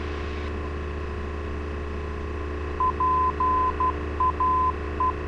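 A steady mid-pitched tone keys on and off as a Morse code station identifier from a VOR on the NAV1 radio of a Cessna 172S, heard over constant cockpit engine drone in short dashes and dots.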